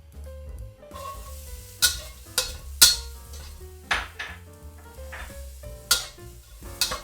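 Salt-and-pepper seasoning and aromatics stir-fried in a hot wok over medium heat, with a steady sizzle and irregular sharp scrapes and clanks of a spatula against metal.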